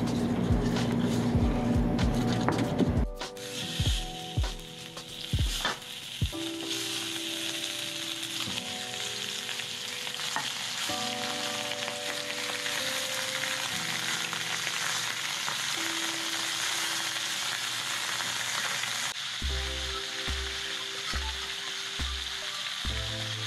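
Costco beef back ribs sear in a hot pan, giving a steady, close sizzle with a few clunks of handling early on and some low knocking toward the end; no one speaks.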